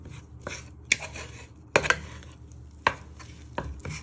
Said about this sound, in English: get your wooden spoon and start breaking all the mince down